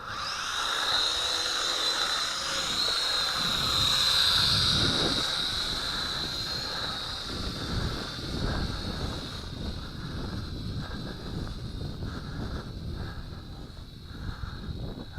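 A Syma X5C quadcopter drone hovers low in a breeze with a high, whining motor buzz that rises and shifts in pitch, mixed with steady wind noise across the microphone.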